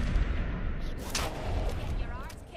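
Gunshots in the Fallout 4 video game, several sharp shots over steady game background, the loudest burst near the middle; a voice talks through part of it.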